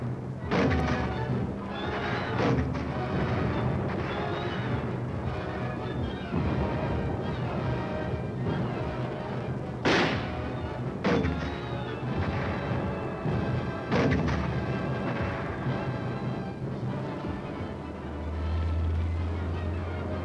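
Korean War artillery crew firing their gun in 1951, with several sharp, heavy booms landing at irregular intervals over a busy rumbling background, the loudest blasts spaced a few seconds apart.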